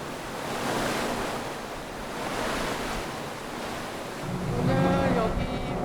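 Sea waves surge around the coast of Biyangdo island in winter, a broad steady wash of surf with wind noise on the microphone, swelling and easing in slow rhythm; a faint boat engine hum rises near the end.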